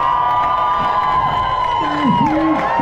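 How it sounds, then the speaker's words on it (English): A large outdoor crowd at the Brands Hatch BTCC race cheers loudly for race winner Ronan Pearson, a dense sustained roar with shrill whoops and shouts rising and falling over it. "A huge cheer for Ronan."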